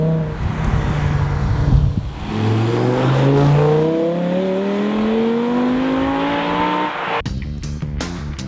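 An Audi R8 V10 Plus with a V10 engine fires up and revs hard, the close, loud engine note climbing in several rising sweeps before cutting off abruptly near the end.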